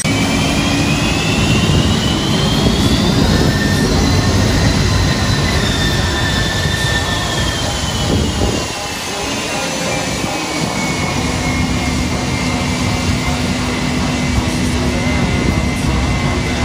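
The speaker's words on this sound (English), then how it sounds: "Plane coming in." An airplane coming in to land passes overhead, a loud, sustained roar with a gliding whine that rises and sweeps down, dipping briefly midway before holding steady, heard alone.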